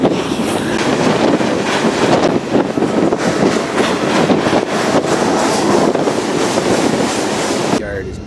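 A freight gravel train ridden in the open, heading toward Willard, Ohio, gives a loud continuous rumble and rattle of rolling rail cars, with heavy wind buffeting the microphone throughout and a brief quieter moment at the very end.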